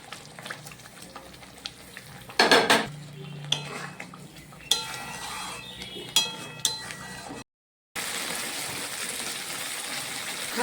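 Paneer tipped into a pan with ghee, garam masala and a pinch of sugar, then stirred: sharp metal scrapes and clanks of a spoon against the pan over a soft, steady sizzle, with a brief silent gap near the end.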